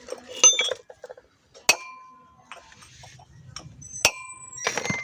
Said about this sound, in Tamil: ஒரு சின்னதாக சிசல் வச்சு லைட்டாக தட்டிக்கலாம்